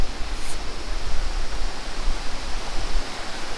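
A waterfall at Jogani Falls in Ladakh roars in a steady, dense rush of water, loud and close, with no voices over it.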